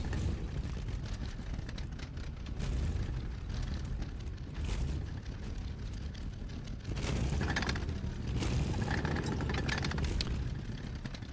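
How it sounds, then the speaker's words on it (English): Tank shells from a tank battle video game repeatedly explode against a rock, a rumbling series of heavy booms and bursts rising and falling over a continuous low roar. "they're just peppering that rock with shells"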